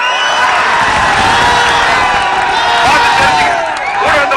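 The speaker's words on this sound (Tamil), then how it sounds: "இங்க போற ஆரவாரம் ஸ்டாலினுடைய செவியை கிழிச்சுட்டு போகும்." Political rally crowd cheering, a loud, dense roar of many voices with whoops and shouts, sustained throughout with some speech mixed in.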